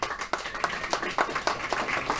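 Scattered applause from an audience at the Mind Sports Olympiad Pentamind World Championship victory ceremony, honouring the champions: irregular, fairly close claps in uneven bursts with a faint background murmur.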